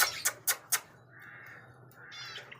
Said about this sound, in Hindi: ये हमारा जो मिट्ठू है ना, ये बोलने में नहीं देता है।